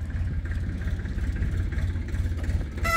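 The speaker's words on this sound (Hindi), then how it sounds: "ये ट्रैक्टर खेती करने के लिए जा रहे हैं।" Farm tractors heading out to the fields on a rural road in Vijaynagar, heard as a steady low engine drone and rumble that runs continuously throughout, fairly close, with no talking.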